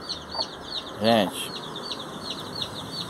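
A hen clucks near a brood of chicks, with soft rhythmic clucks and faint peeps throughout and one louder, drawn-out call in the middle, while someone speaks briefly.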